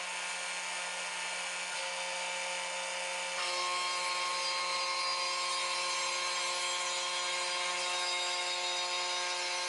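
A CNC router jogged across a rosewood box surface, skimming it, produces a loud, continuous high-pitched whine and cutting hiss that holds steady throughout with a slight shift partway, and no talking.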